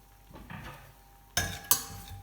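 A metal pan being handled close by: soft scraping and shuffling, then two sharp clanks of metal against metal.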